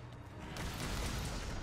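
Explosions from a hunter's weapon in the video game Monster Hunter World, fighting the Burst Hammer Wyvern Uragaan: a dense, rumbling low roar that swells and holds loud through the second half.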